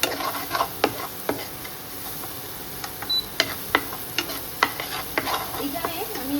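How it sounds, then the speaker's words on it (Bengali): Spice paste sautéed in a pan for a cabbage dish, a steady sizzle punctuated by repeated sharp clicks of a spoon striking and scraping the pan, close and clear with no speech. "ভালো করে মশলাটা কষাবো যাতে মশলার কাঁচা গন্ধ রান্না থেকে চলে যায়"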